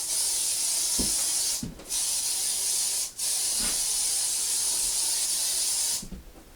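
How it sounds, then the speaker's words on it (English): Several short bursts of Raid bug killer insecticide aerosol spray hissing up close, each a steady broadband hiss lasting one to two seconds, separated by brief pauses. "So I'm going to spray this guy down before I even get started."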